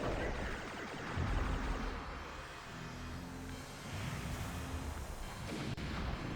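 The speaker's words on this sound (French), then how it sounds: "Non, mais j'ai largué une bombe." A bomb explodes in the Lylat Wars video game, a dense roaring blast and rumble that swells and lingers over a continuous game-engine drone, moderately loud.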